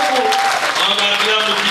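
An audience applauding at a French-language religious gathering, dense clapping heard up close and loud for the whole moment, with voices mixed into the noise.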